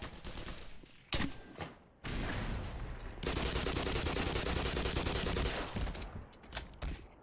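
Turret gunfire in Black Mesa, sustained rapid automatic bursts with a few sharp single shots before, loud and close, with no talking over it.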